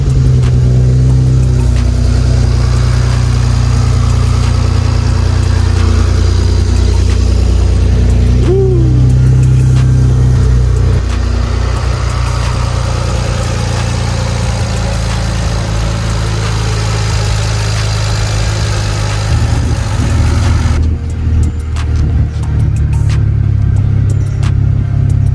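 A BMW 335i fitted with a VRSF chargepipe and blow-off valve runs at a loud, steady, rumbling idle close by, its tone shifting slightly near the end.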